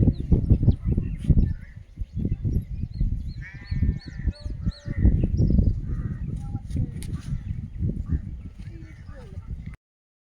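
Ducks quack nearby in scattered bursts while someone talks over them and footsteps shuffle close to the microphone.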